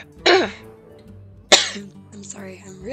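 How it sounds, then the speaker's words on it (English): Two sharp, loud coughs from a person playing an online card game, spaced about a second apart, followed by a softer throat noise, close to the microphone and otherwise quiet. "I'm really, really coughing and cursed."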